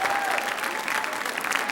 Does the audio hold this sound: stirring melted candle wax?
no